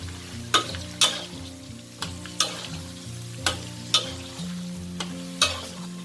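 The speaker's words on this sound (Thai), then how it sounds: "แล้วเราก็หมั่นคนเลยค่ะ จนกว่าใบมะกรูดของเราจะกรอบค่ะ" Salted pork stir-fried with kaffir lime leaves in a pan, with a steady sizzle under about nine sharp spatula scrapes and knocks that come every half second to second, close and clear, with no talking.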